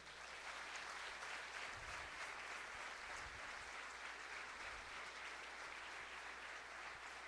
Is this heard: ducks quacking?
no